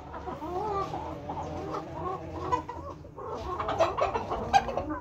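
Aseel chickens of the Thunder breed clucking and murmuring continuously at close range, with a louder burst of rooster calls toward the end.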